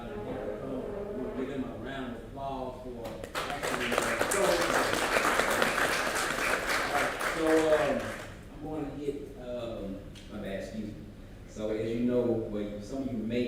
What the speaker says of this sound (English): We'll give them a round of applause for actually showing.